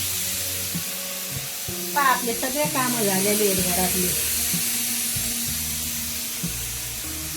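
A steady hiss of escaping steam from a pressure cooker runs through the whole clip while someone talks over it at close range.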